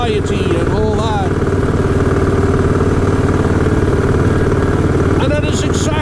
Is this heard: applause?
no